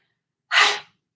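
A single short, breathy sneeze from a small child, quick burst with a soft airy tail, alone in an otherwise quiet room.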